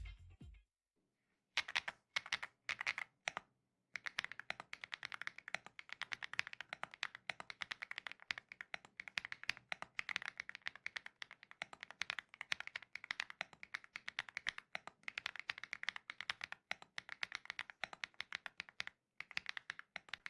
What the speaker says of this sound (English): Let's listen to the typing sound performance on the full kit.